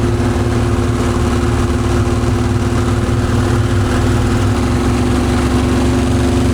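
A turbo diesel John Deere engine fitted in a Harley runs steadily on a dyno, a loud continuous low mechanical drone with no clear revving changes throughout.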